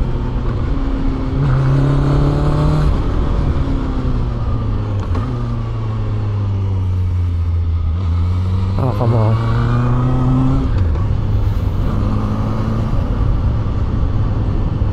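Benda LFC 700 cruiser motorcycle engine on the move, a loud steady low drone whose pitch rises and falls with throttle changes over the full stretch, with someone talking briefly over it.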